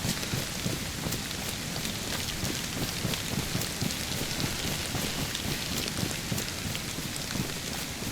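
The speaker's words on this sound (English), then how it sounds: "the rain is a nice ambiance" Steady rainfall ambience in the game DayZ, a dense continuous patter of drops on surfaces with a constant hiss, even and loud throughout with no voices.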